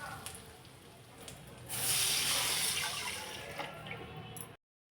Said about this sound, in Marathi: यामध्ये 2 वाट्या पाणी घालते